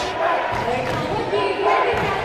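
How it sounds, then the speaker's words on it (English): Crowd cheering in a basketball arena during a professional game, a steady roar of many voices filling the whole stretch with no break. "And that's got the crowd active."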